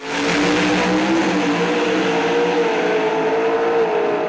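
An 800 cubic inch, 2,000 horsepower Mountain Motor Pro Stock drag car launches on the clutch at a drag race, its engine a loud, sustained, unbroken roar.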